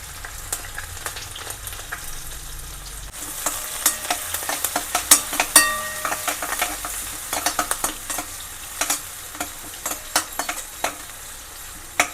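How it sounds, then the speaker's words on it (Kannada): Mustard seeds, cumin, chopped onion and curry leaves fry in hot oil for a South Indian palak dal sambar, with a soft steady sizzle and frequent sharp clicks and scrapes of a spoon stirring the pan, up close and without talk. "ಅರ್ಧ ಈರುಳ್ಳಿ ಕಟ್ ಮಾಡಿ ಇದನ್ನ ಹಾಕೋತಾ ಇದ್ದೀನಿ ಸ್ವಲ್ಪ ಫ್ರೈ ಆಗಬೇಕು ಸ್ವಲ್ಪ ಕರಿಬೇವು"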